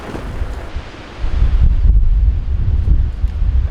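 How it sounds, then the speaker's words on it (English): Wind gusting across an outdoor dig site beside a sidewalk, a low rumbling buffet against the microphone that swells louder partway through and keeps roaring steadily. "the wind's picking up and it looks like there's some more severe weather on the way"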